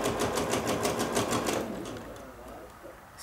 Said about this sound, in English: I've got the walking foot on with the guide on the side, the OD foot, and I'm simply just going to